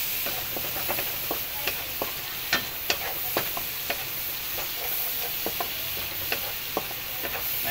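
Chopped garlic sizzling in melted butter in a pan for a seafood dish: a soft, steady frying hiss broken by scattered clicks and taps of a utensil stirring.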